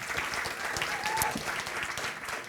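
Audience applause at an evening pitch-competition talk event, steady dense clapping throughout with a faint voice murmuring underneath.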